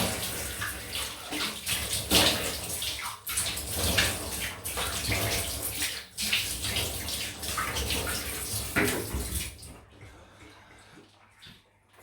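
Water runs steadily from a tap for rinsing after a wet shave, a close continuous splashing flow that lasts about ten seconds before cutting off into near silence.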